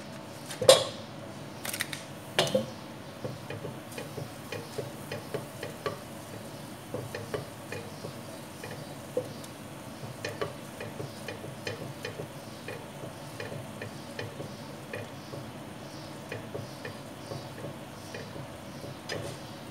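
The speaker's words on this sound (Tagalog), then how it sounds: "Lagyan natin ng butter yung pan natin. So, ilagay natin ang butter." Butter sizzles quietly in a pan on the stove for shrimp, with a steady soft crackle and a few louder clicks and taps of utensils, no talk.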